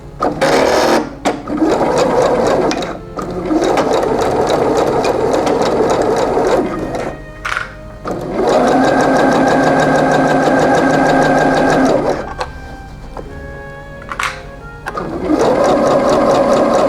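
A sewing machine stitches shirt shoulder seams in long steady runs, loud and close, broken by brief pauses and short restarts.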